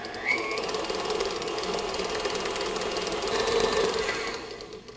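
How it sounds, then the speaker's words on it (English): Electric mixer blending peanut butter into peanut butter cheesecake batter, a steady whirring motor drone running continuously and fairly close, with slight swells in strength near the end. "So now I'm mixing in the peanut butter."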